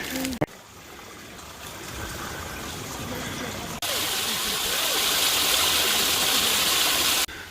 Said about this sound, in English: now we get across over this little creek